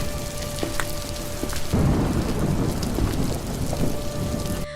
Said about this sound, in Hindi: रामू सूखी लकड़ियां ढूंढ रहा है, लेकिन बारिश के कारण सब गीली हैं।